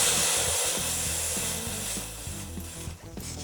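Air blasting out of a wheel through a monster valve while the tire is aired down, a loud, steady hiss that fades slightly toward the end, with a faint ratcheting rattle underneath.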